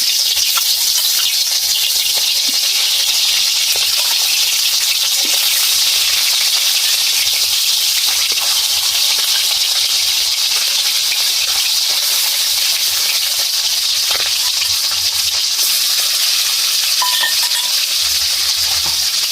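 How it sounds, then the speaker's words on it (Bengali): Hilsa fish pieces fry in hot oil in a wok, a constant bright sizzling hiss with faint crackles that holds at an even, fairly loud level throughout. "তেল গরম হয়ে গেছে, আমি কড়াতে মাছ দিয়ে দিচ্ছি"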